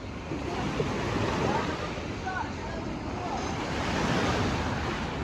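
Ocean waves breaking on a beach at high tide, a continuous loud wash of surf mixed with wind rumble on the microphone.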